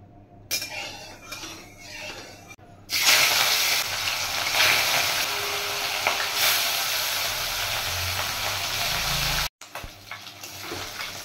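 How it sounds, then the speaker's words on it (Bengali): Katla fish pieces frying in a kadai: after a quiet start with a few clinks, loud dense sizzling and spattering oil take over for several seconds, with occasional utensil taps, then cut off abruptly. "কড়াই বসিয়ে দিয়েছি, মাছগুলো ভেজে নেব"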